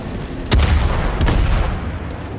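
Secondary guns on a warship fire in World of Warships, two heavy booming reports about a second apart, loud and close over a constant rumbling background.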